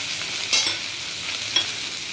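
Cabbage with curry leaves and chopped chilies stir-fries in a hot pan, a steady sizzle broken by two brief spatula scrapes, close and unaccompanied by speech.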